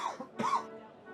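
A person coughs twice in quick succession during a tabletop roleplaying game session, close and fairly soft, with a brief gap between the two bursts.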